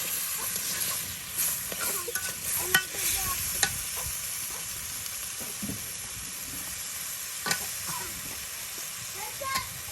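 Curry sautéed in a pan over a village cooking fire, a continuous close sizzle and hiss with repeated scraping stirs and occasional sharp clicks of the spoon against the pan.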